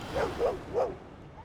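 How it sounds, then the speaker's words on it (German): Dog in the video game Divinity: Original Sin 2 giving three short, yappy barks in a quick uneven sequence, moderately close, with a faint trailing whimper. "So, hier ist ein Hund."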